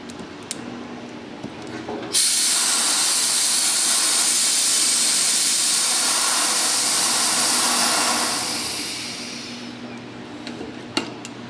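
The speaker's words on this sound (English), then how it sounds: "drain the air out of it down there at the compressor" Compressed air blasts out of a drain on an air line at the compressor as a loud, continuous hiss that lasts about seven seconds, then tapers off, with faint handling noises before and after.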